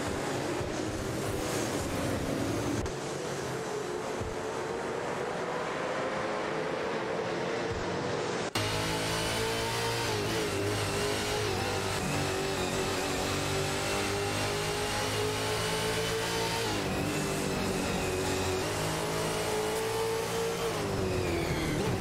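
Race cars, a Nissan Altima and a Holden Commodore ZB, in a racing video game battle closely, engines droning and revving loudly throughout with steady wind-like road noise and a sudden shift in engine tone partway through.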